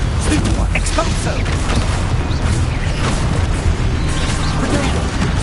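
Spell explosions from Confringo and Expulso in the Hogwarts Legacy video game: rapid bursts and booms, loud and continuous, packed under a dense noisy battle wash while a voice calls out over them.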